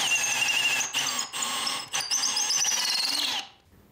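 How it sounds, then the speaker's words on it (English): A drill press whines at a high, steady pitch with brief dips and squeals as it bites into a table while drilling vertical holes, then stops abruptly. "I drilled 2 vertical holes on the drill press"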